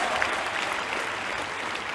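Steady applause from a large crowd at a speech in Sri Lanka, dense clapping that holds at an even loudness throughout without pause.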